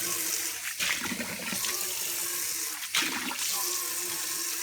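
Tap water running into a dog's water bowl, a steady close rush of water with two brief breaks in the flow, with no talk.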